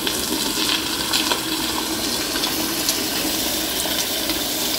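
An American Standard toilet flushes with a loud, steady rush of water and heavy splashing that runs for about five seconds, close by and with no talking.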